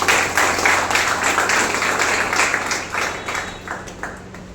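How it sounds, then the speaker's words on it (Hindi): Applause from a gathered group of students honoring a young man who visited his teacher after sitting the RAS mains exam, a steady wash of many hands clapping at moderate level, fading slightly toward the end. "तो आपके इस भाई के लिए ताली हो जाए।"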